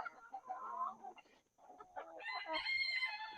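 Chickens in a hoop coop, including black copper Marans, cluck and squawk nearby at low volume, with a brief pause midway before a louder burst of higher calls.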